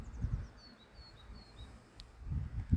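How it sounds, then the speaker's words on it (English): Birds sing in Norfolk woodland, with faint high chirps and whistled notes in the distance over low rustling and footstep-like thumps nearby. "Listen to these birds singing"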